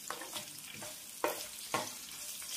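A tempering of curry leaves and onions frying in oil in a pan, with a soft sizzle broken by a few sharp clinks and scrapes of a spoon stirring.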